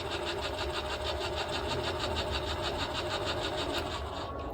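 An electric trailer jack motor runs while lowering the jack, giving a steady, close mechanical buzz with a fast, even pulse. It runs alone without pause until a brief change at the very end.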